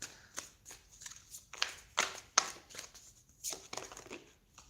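A deck of tarot cards being shuffled by hand, with a run of quick papery riffles and slaps in uneven bursts, close up and fairly quiet, with no voices.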